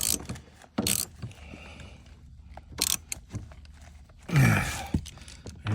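A ratchet tightens the battery bolts on a 2017 Dodge Durango, with short separate bursts of clicking and metallic handling sounds close by and quiet pauses between them.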